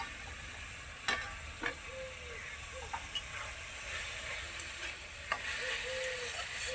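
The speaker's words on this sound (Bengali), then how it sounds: "এখন মশলাটাকে ভালো করে কষিয়ে নেব।" A spice paste fries and is stirred in a pan: a soft continuous sizzle underlies a series of sharp spatula knocks and scrapes at irregular intervals, heard up close.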